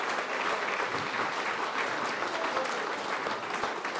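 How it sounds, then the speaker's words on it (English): Sustained, dense applause from an awards-night audience at the OMFNL Morris Medal ceremony as Elliot Powell leaves the stage; steady, even clapping with no pauses, filling the room. "We'll give one more round of applause to Elliot Powell as he makes his way off stage"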